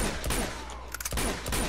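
Gunfire in the video game Uncharted 2 comes as a rapid series of loud shots over a dense, noisy game soundscape, with a brief dip in the middle before the firing resumes.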